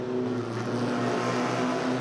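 Small Formula First race cars at Manfield circuit blast past in a close three-way scrap across the start-finish line, a loud, steady buzzing engine drone with no talk.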